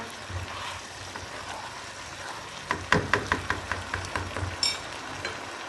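Chana pulao with a little turmeric cooks in a pan over full heat, a quiet steady sizzle with a short run of soft rhythmic stirring or scraping taps near the middle.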